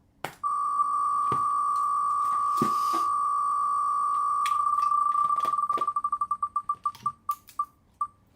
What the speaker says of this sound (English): Let me turn the volume up so y'all can hear the spinner.